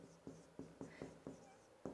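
Pen or pencil strokes scratch across notebook paper in short, repeated bursts, about six quick marks, close and fairly quiet, with no voices in a classroom group activity.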